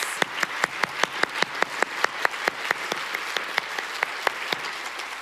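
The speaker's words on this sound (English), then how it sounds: "Let's end with a round of applause for ourselves." Steady, evenly spaced claps, about four per second, close and clear with nothing else behind them, as people give themselves a round of applause at the end of an online book talk.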